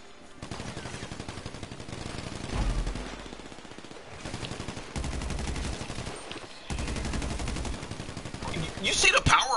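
Rapid automatic gunfire and shooting bursts from a GTA Online firefight, loud and close, with repeated volleys and a short lull between them, ending in sharper, louder shots.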